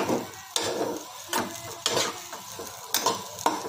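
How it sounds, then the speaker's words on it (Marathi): Hot milk added to semolina roasting in a pan for sheera while a spoon stirs, with repeated scraping strokes and a soft sizzle, close and steady with no talking. "ह्यामध्ये आपण पलीकडे बाजूला ठेवलेलं गरम करायला ठेवलेलं दूध मग ह्यात घालायचं आहे"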